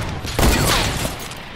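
A single heavy sniper shot booms in a video game, a sharp loud blast with a short rumbling tail that fades out quickly.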